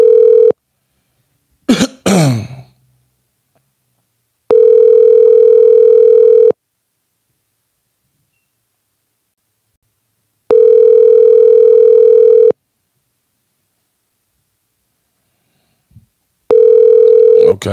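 A telephone ringback tone during a phone call sounds in long steady beeps of about two seconds, repeating roughly every four seconds, after a brief cough near the start.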